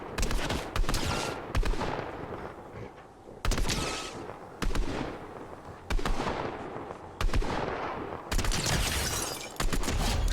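Gunfire in the Fortnite video game comes in repeated loud bursts of rapid shots, separated by short quieter gaps, with no talking.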